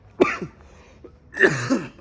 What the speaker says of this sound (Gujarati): બોલું એટલે ઉધરસ આવે